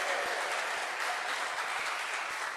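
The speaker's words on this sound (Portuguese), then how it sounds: "Pode ser mais forte esse aplauso ao Rei." Church congregation applauding in sustained, even clapping from a large group, moderately loud and continuous for the whole stretch, with no speech over it.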